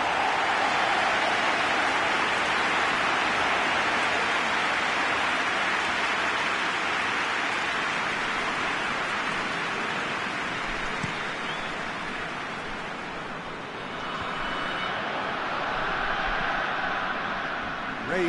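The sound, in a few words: rain falling in a football video game (PES)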